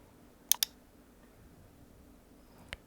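Computer mouse clicks while editing a thumbnail: a quick pair of sharp clicks, then a single click a couple of seconds later, in a quiet room.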